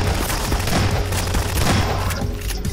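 Sustained gunfire in the Half-Life 2 game, dense bursts of rapid shots and booms rattling continuously and loudly throughout.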